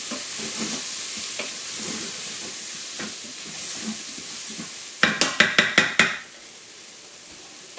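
Tomato paste and harissa are stirred into onions frying in a pot for chicken gizzard curry: a steady close sizzle and hiss, then a quick run of about six sharp scraping strokes before the sizzle settles quieter.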